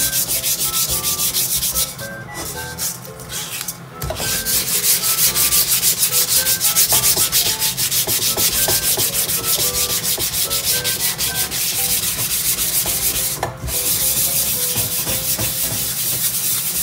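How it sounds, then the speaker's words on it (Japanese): Sandpaper scrubbing burnt-on residue off an iron frying pan, a loud, continuous rasping rub that runs steadily throughout with brief pauses, no talking. "その後にサンドペーパーでこすったら、"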